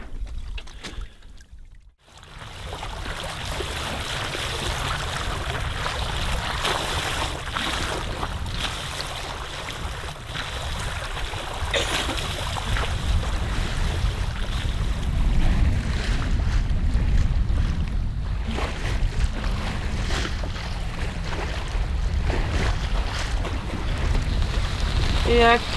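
A sailboat moving under mainsail alone with the engine off, rain falling, steady wind buffeting the microphone and water washing along the hull in a continuous, fairly loud rush with brief gusty swells.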